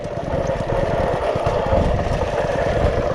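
A motorized spacer cart running along a power line, its small engine droning steadily and loudly with a rough, clattering mechanical texture throughout.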